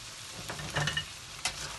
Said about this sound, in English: So we just fry it, you see?